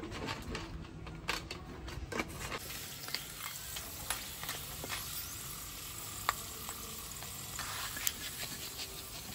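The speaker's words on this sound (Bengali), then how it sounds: "পাঁপড় ভাজা হয়ে গেল" Potato papad crackles and sizzles in hot oil with close, continuous hissing broken by sharp pops and spits at irregular intervals; no voices are heard.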